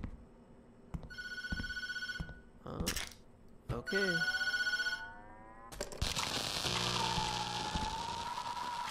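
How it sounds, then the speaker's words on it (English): Telephone ringing in the video game Tattletail, repeated electronic bell rings in short bursts with pauses, followed by a loud crackling, sizzling noise; a voice speaks briefly. "Should I answer the phone?"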